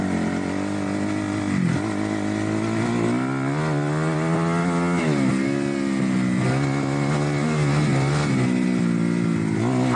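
Dirt bike engine revving steadily with rising and falling pitch as a beginner rider rides it, loud and continuous throughout with no talk.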